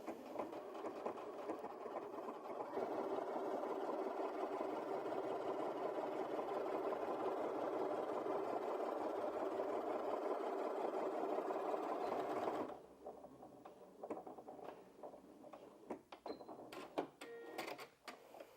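A Janome 5270QDC sewing machine runs a triple straight stitch in one steady fast whirring burst of about ten seconds, then stops, leaving quiet handling clicks.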